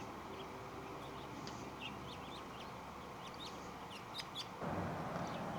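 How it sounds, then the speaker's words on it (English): Finches nesting in an Italian cypress in New Mexico chirp in short, high, scattered notes over a steady low background hum, fairly faint and at a distance, with no talking. "springtime has come and the finches are nesting in the Italian cypress"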